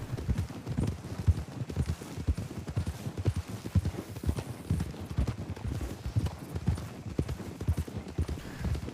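Horse hooves in a Western-themed video game, a quick irregular clip-clop of hard hoofbeats throughout, moderately close but fairly quiet, with no voice over it.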